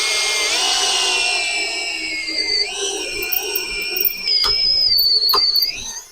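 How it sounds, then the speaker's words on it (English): A power drill with a reamer bit whines at a high pitch, its tone shifting and rising as it reams holes in truck axle parts, with brief sharp clicks near the end; no talking. "So what I'm gonna do is I'm just gonna start reaming this out."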